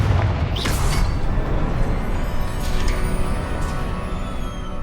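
Confringo spell explosion in the Hogwarts Legacy video game, a loud, sustained booming roar that fills the whole clip with rumbling low end and no talk over it.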